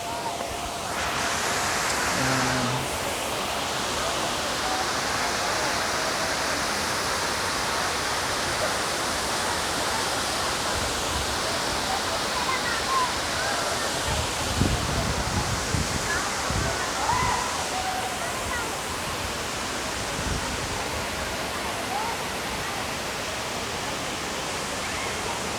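A long waterfall pouring down, a steady loud roar of rushing water that fills the whole stretch, with people speaking briefly underneath.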